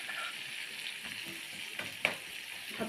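Freshly chopped onions with only a pinch of salt fry in a pan for Egyptian koshari, giving a steady close sizzle with a single sharp utensil tap near the end.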